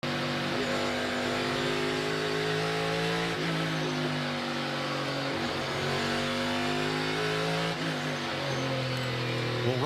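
Onboard race car engine at the 2022 EchoPark Automotive Grand Prix, the car running through the S's toward the turn 11 hairpin: a loud, continuous engine roar that climbs and drops with shifts, with faint commentary underneath.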